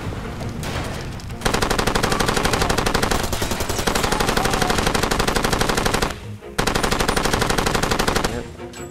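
Rapid automatic gunfire from the Far Cry 2 game fires in long sustained bursts of evenly spaced loud shots, broken by two brief pauses.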